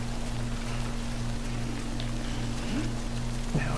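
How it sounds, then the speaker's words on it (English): Timefall rain in Death Stranding: a steady, even hiss of falling rain under a constant low hum, with a few faint chirps and tones near the end, no talk. "just need to get out of this fucking time fall rain of death"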